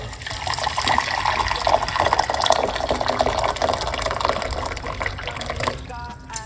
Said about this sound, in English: we are going to put 1 cup of hot water.